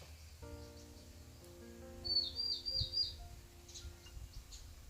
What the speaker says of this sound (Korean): 이렇게 비가 내리는데도 여전히 여기저기 새들의 지절대는 소리가 들려옵니다.